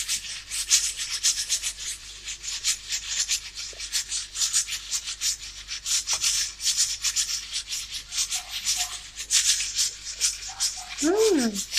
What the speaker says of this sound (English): That's my pressure cooker guys in the background.